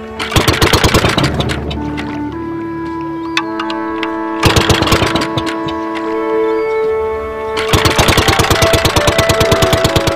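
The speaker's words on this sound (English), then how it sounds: "The Evinrude outboard." An Evinrude outboard boat engine runs in loud, rapid pulsing bursts that come and go, with steady tonal hums between them.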